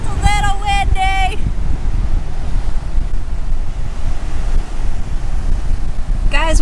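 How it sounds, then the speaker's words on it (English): Strong wind buffets the microphone outdoors on a blustery nor'easter day, a loud continuous roar with gusts, while a voice speaks briefly at the start and again at the end. "It's a little windy today."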